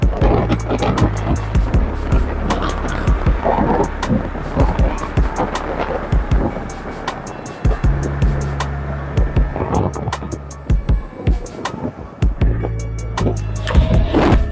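Kaabo Wolf King GTR electric scooter ridden around town on a road, a constant rumbling roll with wind buffeting the microphone and rattling clatter throughout, and a voice talking over it.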